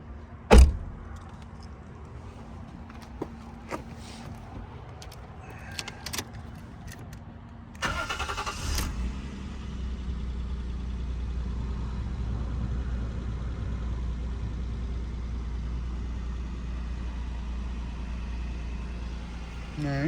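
A 1998 Toyota Cresta GX100 heard outdoors: a few clicks and clunks, then the engine cranks and catches into a steady low idle that runs on alone.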